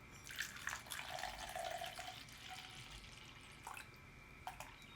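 Spiced apple cider trickles and splashes into a cup in a short, quiet pour, with a few faint drips near the end.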